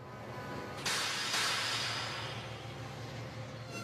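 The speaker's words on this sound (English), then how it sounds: "whereas Mavis's brakes sound like this" Brakes of a diesel engine on a railway at a dockside, heard as a loud broadband airy hiss that bursts in twice and then eases off into a steady softer hiss, with no talking.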